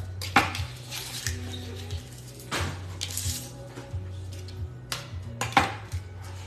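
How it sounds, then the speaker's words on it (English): A small onion being pressed through a veggie wedger, with a few sharp clinks and thuds of the tool and kitchen utensils spaced through a quiet kitchen background, close by and with no talk. "we are going to wedge the onion using the veggie wedger"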